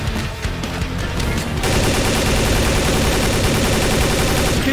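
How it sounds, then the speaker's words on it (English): Automatic gunfire in the Half-Life 2 video game: rapid, loud bursts of shots that build into a dense continuous rattle after a brief lighter start, with no talk. "Keep firing!"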